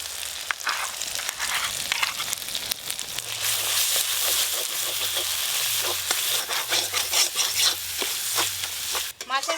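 A spice paste of Kashmiri red chili powder, yogurt, and ground melon seeds with cashews is stir-fried in a pan for rohu fish kalia, sizzling steadily while a spatula scrapes repeatedly in a rhythmic stirring pattern.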